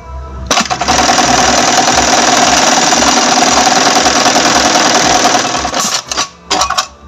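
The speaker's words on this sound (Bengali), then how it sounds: "এখন আমি মেশিনটা চালিয়ে দেখাবো যে আমার সেলাইটা আগের তুলনায় মোটা হইল কিনা" An MEB-3200J eyelet buttonhole sewing machine runs continuously for about five seconds, loud and close, with a dense rapid mechanical stitching chatter, then winds down with a few clicks and clunks.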